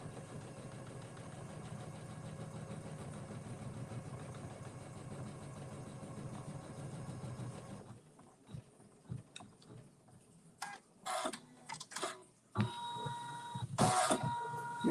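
An embroidery machine stitching an appliqué design, a steady rapid mechanical whirr and needle rattle for about eight seconds, then stopping into quieter clicks, taps and brief bursts of handling noise close by.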